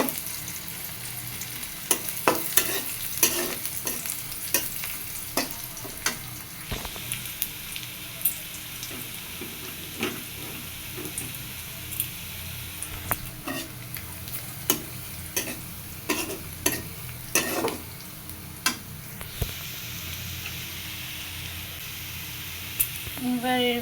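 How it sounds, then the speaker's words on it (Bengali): Chopped onion fries in a pan for a long stretch, a continuous sizzle broken by repeated scraping and clacking of a spoon stirring, with a faint voice now and then. "এটা ভালো করে ভাজা ভেজে নিব পেঁয়াজটা"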